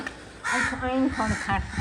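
Crows caw repeatedly nearby around a house yard, harsh calls rising in a few bursts while people talk over them.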